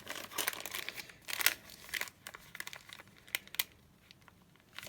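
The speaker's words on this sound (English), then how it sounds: "you've got that lovely crinkly sound from the paper bag" Paper bag folded and creased into a long-pocket envelope beside a coffee-dyed envelope, giving a run of close, quiet crinkles and sharp crackles in irregular bursts with short pauses, no talking.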